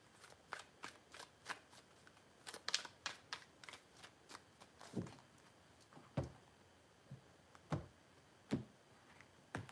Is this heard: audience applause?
no